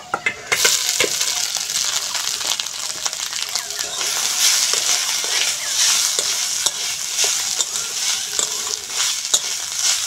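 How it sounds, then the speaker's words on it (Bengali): Tender banana stem fries uncovered in a pan with garlic and dried red chillies, giving a continuous bright sizzle with frequent scraping stirs, close and steady throughout. "কচি থোড়, ঢাকা দেব না, এমনিভাবেই ভেজে নেব"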